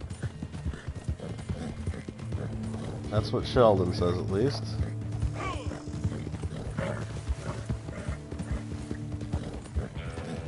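Horse hooves clip-clop steadily through a Red Dead Redemption 2 game scene, mixed with ambient game sound and a brief snort or whinny, under a person talking.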